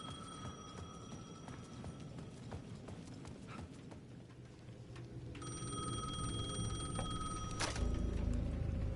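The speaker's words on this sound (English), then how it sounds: "The payphone at the edge of the plaza was ringing again." Payphone in the video game Alan Wake 2 ringing with repeated electronic bell trills, a long ring starting midway and growing louder, over a steady low ambient rumble and scattered clattering noises.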